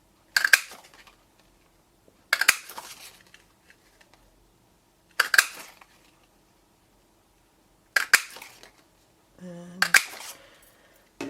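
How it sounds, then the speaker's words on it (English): A Stampin' Up! Petite Petals punch pressing shapes out of paper: five sharp, crisp clunks spaced a couple of seconds apart, close and distinct against near silence. "I'm going to punch those out now with the Petite Petals, the Petite Petals punch"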